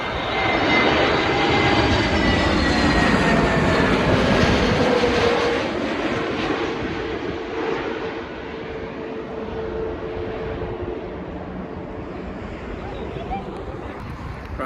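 A British Airways airliner on approach to London Heathrow Airport roars loudly overhead, then the broad engine rumble slowly fades into the distance.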